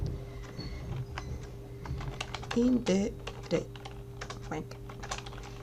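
Rapid clicking of a computer keyboard during a Spanish-language Excel lesson, light irregular keystrokes running throughout, with a few louder taps near the middle and faint background voice sounds.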